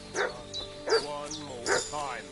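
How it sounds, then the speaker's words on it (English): Repeated barks and yips from a dog in the video game Kingdom Come: Deliverance 2, several close, excited bursts in quick succession with whimpering tones between them. "What's that dog making such a fuss about?"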